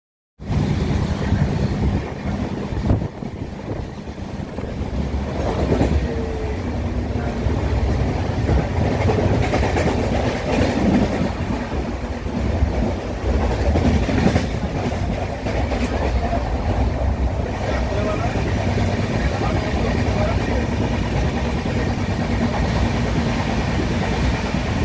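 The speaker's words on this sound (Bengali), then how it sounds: "ঠিক 11:10 আমাদের ট্রেন শালিমার স্টেশন থেকে ছেড়ে দিল।" Amaravati Express sleeper class train running after leaving Shalimar station, a steady loud rumble of wheels and carriage noise with faint rhythmic clatter throughout, no talk.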